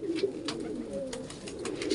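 A flock of pigeons coos in low, throaty, rolling calls close by while feeding on scattered roti, the murmuring steady and without speech.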